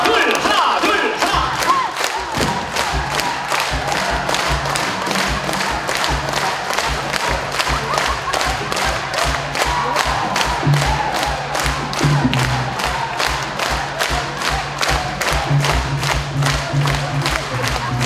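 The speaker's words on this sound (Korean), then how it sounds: "박수에 맞춰가지고 한번 할게요" An audience at a festival concert in a large performance hall claps in unison to a steady beat, with fast, regular sharp claps continuing for well over fifteen seconds over a crowd murmur and some cheering.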